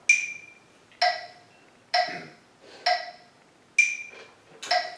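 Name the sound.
metronome ticking at 65 beats per minute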